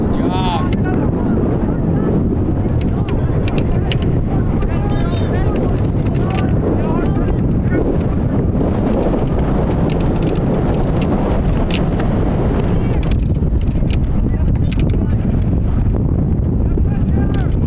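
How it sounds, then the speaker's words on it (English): Strong wind roars across the microphone outdoors at a U15 youth soccer match, a loud, constant, buffeting rumble that fills the whole stretch, with faint distant voices beneath it. "Wind is really picking up."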